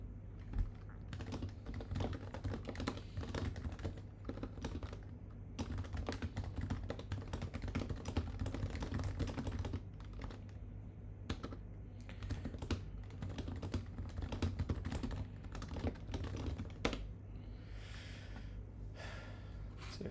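Someone types on a computer keyboard while programming, with steady close clicking and bursts of keystrokes punctuated by audible breaths and a sharp exhale, with no speech.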